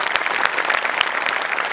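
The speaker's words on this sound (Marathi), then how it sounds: "त्यांच्यासाठी एकदा जोरदार टाळ्या" An audience applauds a qawwali singer at the start of a stage comedy show, a short burst of dense, loud, steady clapping from a large crowd.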